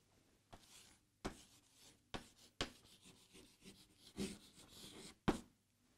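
Pen or chalk writing out a word by hand during a Ukrainian language lesson, heard as soft scratchy strokes broken by several sharp taps and scrapes, close and fairly quiet, with no talking.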